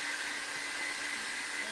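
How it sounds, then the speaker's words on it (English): A hair dryer blows steadily over a freshly painted cactus canvas, a close, even whooshing hiss with no talk. "if you use a dryer on your painting, you can use a hair dryer"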